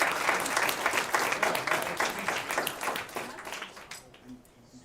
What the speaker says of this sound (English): Can we get another round of applause for Kia, actually?